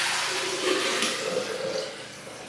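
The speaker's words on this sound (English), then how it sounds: "We're going to add 4 cups of filtered water to our blender." Filtered water poured into a blender makes a close, steady gushing splash that swells briefly and then eases slightly toward the end, with no talking over it.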